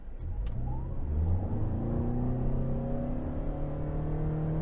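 A 2021 Toyota Sienna XSE hybrid minivan with a 4-cylinder engine accelerating hard from a stop, a steady droning engine note rising smoothly in pitch, heard from inside the cabin with no talk.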